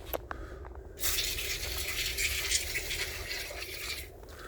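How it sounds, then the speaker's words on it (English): Termite treatment liquid sprayed into a wall, a steady hissing spray starting about a second in and running close and fairly loud for several seconds before easing off, with no talk. "now I want to spray it so that it kills the termite and the termite babies that are still in the wall."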